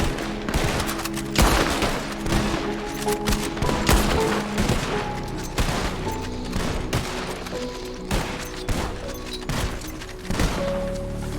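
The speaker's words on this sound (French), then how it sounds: "Salve de 3 tirs, t'as dit?" Gunshots ring out in a three-shot salute at a funeral in the Red Dead Redemption video game, with repeated close, loud volleys of shots and overlapping reports spread across the whole stretch and no talking.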